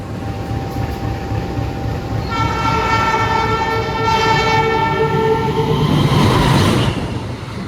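An express passenger train, the KA Motis Selatan on Indonesia's southern line, roars past at about 110 km/h with a long, loud blast of its horn, the rush of wagons swelling and fading as it goes by.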